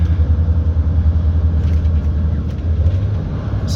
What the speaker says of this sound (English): So no brakes there, that's just all pure exhaust brakes